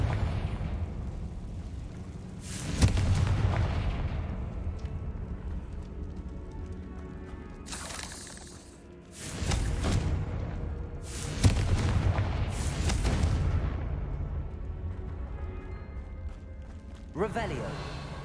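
Confringo fire spell explosions in the video game Hogwarts Legacy, a series of deep booms and rumbling blasts with background game audio and spoken voices in between.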